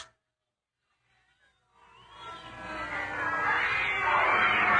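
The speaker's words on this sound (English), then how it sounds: "A plague of cats, Prince. 3 nights now, about this hour they come." A group of cats yowling and caterwauling as a sound effect in an old-time radio drama, rising out of silence into a loud, sustained wailing chorus.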